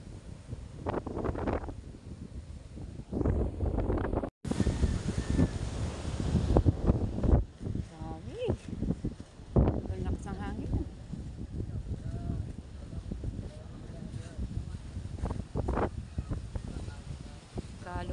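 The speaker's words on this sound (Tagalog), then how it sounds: "lakas po ng hangin" Strong wind blows on a seashore under stormy weather, a continuous buffeting rush against the microphone with loud gusts throughout, while someone speaks intermittently.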